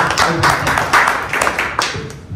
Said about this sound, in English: So one more applause